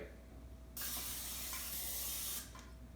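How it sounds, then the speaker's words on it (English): A steady hiss of aerosol cooking spray runs for about a second and a half, close up, in one continuous burst after a quiet start. "So let's coat it with the cooking spray."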